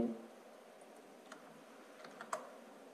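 Keys tapped on a computer keyboard while entering an equation, a few sparse, quiet clicks spread across a soft room hum, with a slightly sharper keystroke toward the end.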